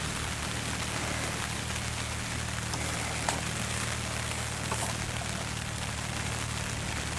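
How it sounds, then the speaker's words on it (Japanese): Heavy rain pours down at a campsite on Mount Fuji's lower slopes, a dense, steady hiss with no breaks and only a few faint drips or knocks standing out. "ザーッと雨が降ってきた"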